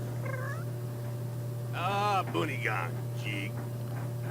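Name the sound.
cat meowing in The Sims 3 video game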